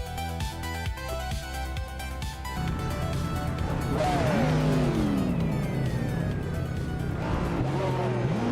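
Race cars start a race on the Charlotte Road Course no-chicane track in a racing video game. Several engines rev up and roar with sweeping pitch, rising to a loud sustained blare, and other sound sits underneath early on.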